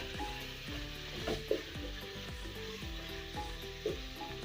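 Mixed spices including red chilli frying in a pot for an arvi gosht salan, with a continuous sizzle and repeated stirring scrapes at a steady rhythm, close and clear with no voice.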